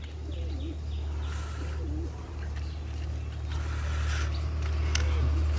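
A pair of lakkha fantail pigeons cooing, soft rolling coos repeating in short bursts over a low steady hum, close and fairly faint.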